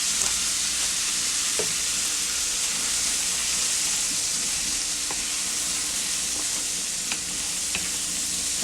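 Onions and Rice-a-Roni frying in a pan, with a steady loud sizzle and hiss throughout and occasional soft scrapes of stirring.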